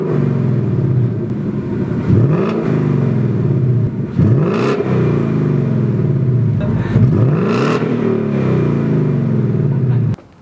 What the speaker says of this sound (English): give you guys some exhaust revs so you can hear exactly what the difference is going to be between the stock system and the Xtreme